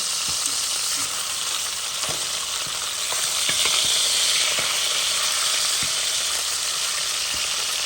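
A swordfish steak fries in a pan with a steady, close sizzle, while small clinks and scrapes mark the fish being turned over.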